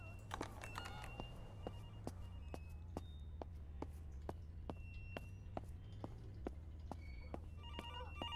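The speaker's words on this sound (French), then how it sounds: "il est où ce maudit téléphone?" In the horror video game Infliction, a telephone rings through the house, its bell faint beneath regular footsteps thudding across the floor and a steady low hum, sounding somewhat distant.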